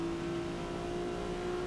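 Infiniti G35 time attack build in Forza Motorsport, engine holding a steady, moderately loud tone with a whirring mechanical edge during a brief stretch of driving, no voices.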